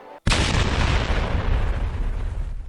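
Sudden sharp blast as a cannon fires at Buggy in the One Piece anime, a loud close boom that hits at once and rolls into a long, noisy explosive rumble.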